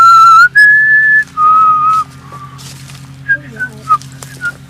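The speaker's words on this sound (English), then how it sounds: "That's me whistling." A person whistles outdoors during an airsoft game, a loud run of several sustained, shifting notes followed by a few short, quieter chirps over a low steady hum.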